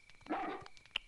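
A dog in the video game Haunting Ground gives a single short bark, fairly quiet, followed by faint clicks and game ambience.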